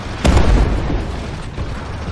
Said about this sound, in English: Missiles inbound.